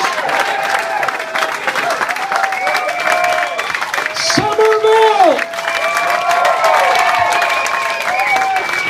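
Comedy club audience at a stand-up show in Somerville, MA applauding and cheering loudly throughout, with whoops and shouts rising over steady clapping while the comedian shouts over the crowd.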